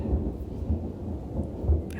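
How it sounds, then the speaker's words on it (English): A thunderstorm rumbles low and steady with rain hissing underneath, the deep thunder pulsing faintly a few times across the stretch, and no voices. "Sorry, I'm distracted again by the thunderstorm."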